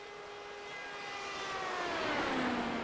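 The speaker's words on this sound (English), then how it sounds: "Car still screaming." A Dallara IR18 open-wheel race car engine screams past during qualifying, a high whine swelling steadily louder and sweeping down in pitch as it passes close by.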